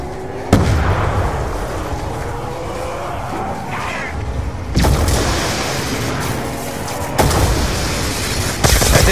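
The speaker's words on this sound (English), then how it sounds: "I think that explosion took him down for good." Loud booming explosions hit at intervals over a dense rumbling din of battle noise, with a voice faintly in the mix, in the video game Call of Duty: Black Ops 2 on the Origins zombies map.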